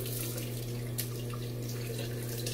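Cold water runs steadily from a bathroom tap before a shave, a constant close splashing hiss with no talking.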